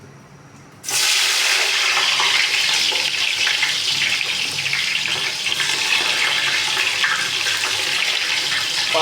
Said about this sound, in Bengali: এখন তেলের মধ্যে পেঁয়াজ দিয়ে দেবো।